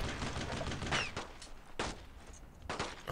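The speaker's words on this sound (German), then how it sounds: "Ich werde die mal hier unter Schuss nehmen, damit die hier sicher rüberkommen können." Gunfire in the World War II shooter Brothers in Arms: Road to Hill 30, sharp rifle shots and short bursts cracking out at irregular intervals amid battlefield din, with a few nearer loud reports.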